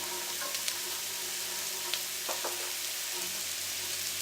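Carrots, capsicum, French beans and cabbage sauté in a hot pan for veg fried rice, giving a steady sizzling hiss with a few soft clicks of stirring.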